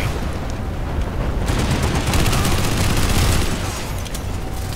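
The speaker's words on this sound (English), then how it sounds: "Mag dump with the Ant." A full magazine dumped from the Ant in the Planetside 2 video game, a sustained rapid stream of loud automatic gunshots rolling continuously for several seconds, with no talk over it.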